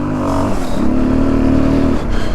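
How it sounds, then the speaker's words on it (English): A vehicle engine revs hard at full throttle on a forest trail, loud and close, with a sustained rising drone that holds and then drops off. "it just sounds like me really throwing out the throttle and nothing's happening"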